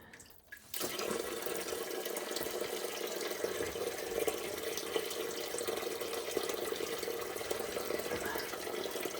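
Motor oil pouring from a car's drain plug hole into a drain pan while it is winterized, a steady, continuous liquid splashing stream heard close after a brief quieter start.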